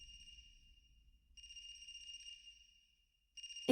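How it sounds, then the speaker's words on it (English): A phone rings in the video game AI: The Somnium Files, with electronic tones in two spaced bursts, quiet and clean, and a sharp click at the very end. "Is that a phone ringing?"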